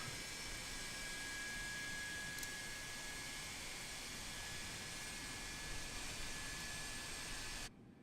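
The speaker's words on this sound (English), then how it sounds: "like you hear the engines starting up" Airbus A330 jet engines spooling up in a flight simulator game, a steady broadband roar with a faint high whine running unbroken before cutting off near the end.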